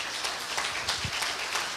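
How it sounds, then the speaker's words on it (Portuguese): A church congregation claps for the pastor, a soft, even patter of hands with one brief low thump partway through, fairly faint. "E as palmas louvam ao Senhor pela vida do pastor"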